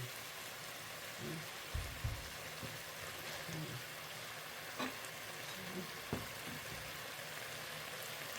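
Shallots frying in oil in a pan while cooking a Thai dish, a quiet steady sizzle with occasional clinks and stirring bumps, heard fairly faintly with some talking at times.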